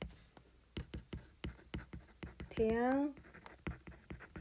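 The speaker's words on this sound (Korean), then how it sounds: "다른 색깔로 써볼게요" A pen writing on a classroom board, switching to a different colored pen, gives a run of short, regular tapping strokes while a teacher speaks briefly over them.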